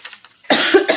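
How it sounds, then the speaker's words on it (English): A single close, loud cough bursts out after a quiet stretch of faint background murmur, with a second smaller cough-like burst following near the end. "excuse me, sorry about the cough"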